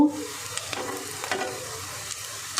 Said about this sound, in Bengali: দেখুন বন্ধুরা, কাবাবগুলো ভাজা হচ্ছে, প্রায় হয়ে গেছে।